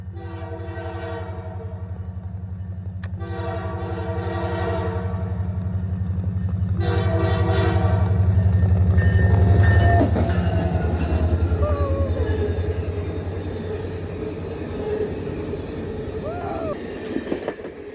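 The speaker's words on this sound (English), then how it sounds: "And now we proceeded to take chase on the train." The 2025 CPKC Christmas train passes with two long, loud horn blasts over a deep diesel rumble, which builds as it draws near, then gives way to rolling wheel clatter and faint squeals.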